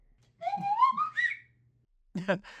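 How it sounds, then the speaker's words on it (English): A whistle glides upward in pitch in one smooth slide, followed after a pause by a short burst of voice. "It's me with a slide whistle."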